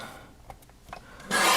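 A paper trimmer cuts card stock for a handmade card, with a few soft ticks and then a short, close rasping slide of the blade.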